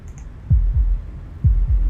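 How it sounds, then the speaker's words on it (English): Heartbeat sound effect from the video game Slay the Princess: two double thumps, deep and close, each pair a quarter second apart, with a long pause between pairs over a faint hum. "That was the sound of a heartbeat"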